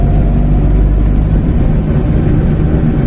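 A Maruti 800 car is driven fast with its tyres slipping and its wheel alignment off. A loud, steady low engine and road roar runs throughout without a break.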